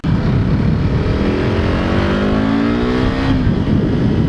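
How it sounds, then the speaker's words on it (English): A KTM RC390 single-cylinder motorcycle engine revs loudly and close, its deep thumping tone rising steadily in pitch over several seconds and then dropping off. "it's just got a thumper tone to it. I feel it's a little deeper and it's a little louder"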